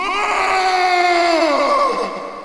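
A horrible, drawn-out scream in the night from woods near a house, loud and wavering with strong harmonics, sliding downward and fading toward the end, heard alone with no talk.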